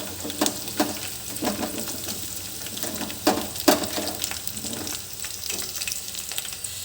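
Onions and green chillies fry in a pan of oil for a prawn curry, giving a steady close sizzle broken by several sharp bursts and scrapes as a spoon stirs them, with no talk.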